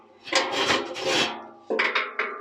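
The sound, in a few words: Honda Izy scooter part lifted out of oven onto workbench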